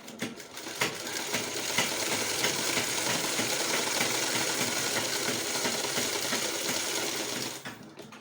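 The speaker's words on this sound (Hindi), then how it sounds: "बगल के हिस्से पे सिलाई लगाएंगे।" A sewing machine stitches the side seam of a kurti in one continuous close run, a rapid even rattle that starts, holds steady for several seconds, then stops.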